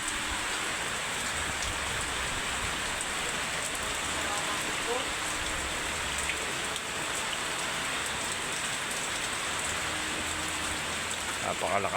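Dense, constant typhoon downpour in Quezon, Philippines, hissing on surfaces nearby, a steady wash of heavy rain with no pauses.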